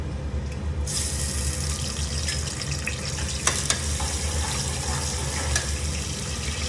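Onions and carom seeds frying in hot oil, a steady loud sizzle with occasional sharp crackles and pops, continuous and close.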